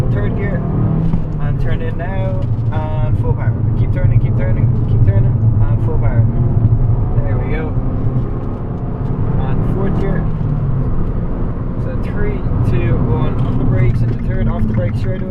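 An Abarth 500 pulls at full power around the Mondello Park racetrack, its engine droning loudly and steadily from inside the cabin while an instructor talks continuously over it.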